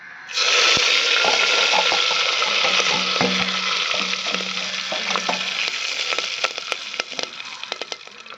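Mustard seeds, fenugreek and curry leaves hitting hot oil, a loud continuous sizzle with sharp crackling pops that gradually thin out into scattered spluttering, close up and with no talk.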